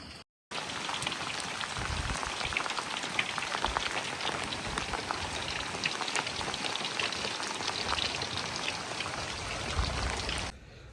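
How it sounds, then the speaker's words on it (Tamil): Heavy rain falls steadily and loudly for about ten seconds, a dense continuous hiss of drops striking surfaces, close and with no talk over it. "செம்ம அடிக்குது ஃப்ரெண்ட்ஸ், மழை"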